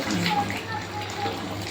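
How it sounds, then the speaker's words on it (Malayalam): A pot of soybean meat-style curry bubbles at a steady, close simmer, with a soft continuous gurgle and a voice talking over it. "തിളച്ച് എണ്ണ എല്ലാം തെളിഞ്ഞു വന്നിട്ടുണ്ട്."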